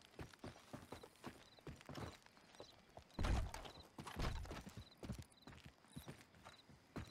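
A horse in Red Dead Redemption 2 walks with steady, clear clip-clopping hooves, close and quiet, with a few heavier thuds and the occasional snort mixed in.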